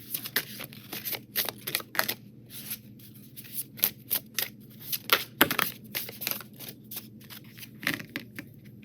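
Tarot cards shuffled repeatedly, a steady stream of close, dry flicks and riffling bursts with brief pauses between, moderately loud and free of speech.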